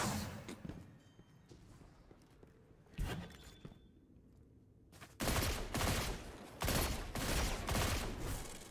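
Sniper rifle fire in Destiny 2 Trials of Osiris PvP: a sharp crack near 3 seconds, then several heavy, loud bursts of shots after 5 seconds, with footsteps and game effects in between and no talk.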